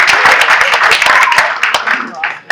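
Applause from a dinner audience of about 300 at an appreciation event, a dense burst of clapping that thins and fades toward the end.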